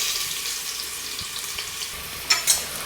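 Finely chopped onion frying in a pot for chicken biryani, a soft steady sizzle with faint stirring and a couple of brief clinks near the end, close and without talk.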